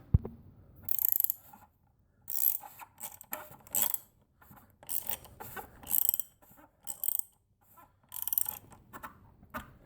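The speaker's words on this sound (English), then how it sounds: "you just take your ratchet, tighten her back down" Ratchet wrench tightening a new oil filter back on a Jeep Wrangler with the 3.6 L Pentastar engine, heard as repeated bursts of close, crisp clicking in short spurts separated by brief pauses, with no talk.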